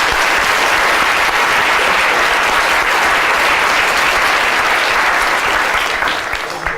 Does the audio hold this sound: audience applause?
yes